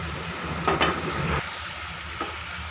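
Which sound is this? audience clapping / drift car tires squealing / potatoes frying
potatoes frying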